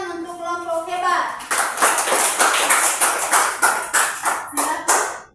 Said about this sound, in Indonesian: tepuk tangan untuk kelompok hebat